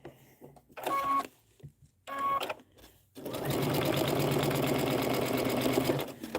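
Sewing machine stitching quilt star blocks with stitch-and-flip corners: two short bursts of running stitches, a pause, then a long steady run of rapid mechanical stitching, close and fairly loud, with no talk.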